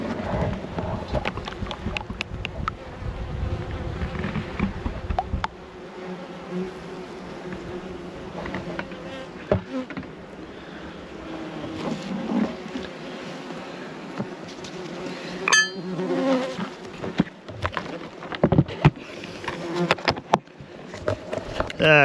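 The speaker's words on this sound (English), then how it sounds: "And look at the wasps we got now." Wasps buzzing around a Langstroth nuc feeder with syrup, a continuous close insect drone with light wind noise on the microphone.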